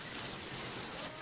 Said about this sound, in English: And the rain is coming down.